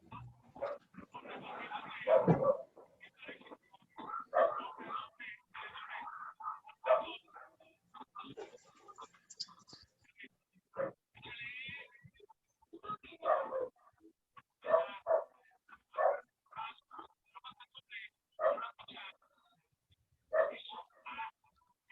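A dog barks repeatedly during an online Zoom conference of architects, the barks coming in irregular bursts of varying loudness across the clip, with faint yelps and whimpers mixed in.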